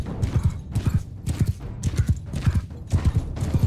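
Horse hooves pound in a fast, rhythmic gallop during a cavalry charge in the medieval battle game Mount & Blade II: Bannerlord, loud and close, with evenly spaced thumping beats throughout.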